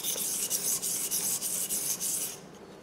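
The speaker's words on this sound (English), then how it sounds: "You got to be real careful when you rub your hand across the blade like I just did." A hand rubs across a grafting knife blade, a few close, rasping strokes in a steady rhythm lasting a couple of seconds before fading out, with no talking.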